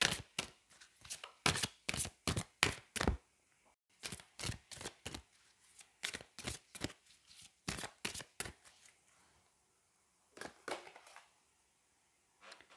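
Chakra oracle cards are shuffled in quick runs of crisp riffling snaps, paused briefly between bursts, close and fairly quiet with no talking.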